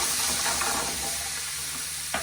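White wine poured into a hot pan with chicken piccata drippings sizzles and hisses steadily, a loud, close frying noise that slowly fades, with a small clink near the end.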